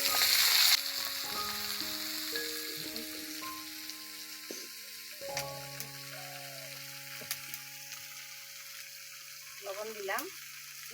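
Chopped bottle gourd fries in a pan in a village kitchen, a steady soft sizzle with occasional stirring scrapes and clinks, while a voice talks over it.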